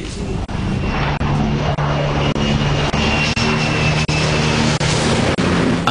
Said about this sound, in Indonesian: Jet tempur tercanggih Amerika Serikat F-35 akhirnya sukses melakukan pendaratan pertama di kapal induk USS Nimitz